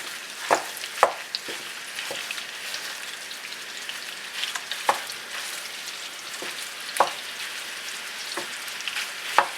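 Pork sausage fries in a pan with a steady, close sizzle, broken by small sharp pops and spatters spread across the whole stretch, and no voices.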